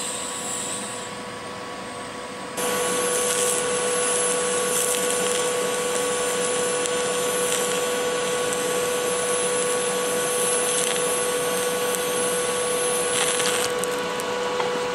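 A TIG welding arc runs with low shielding gas set to about 10 cubic feet per hour, a steady loud hiss and crackle lasting around eleven seconds after a quieter hum.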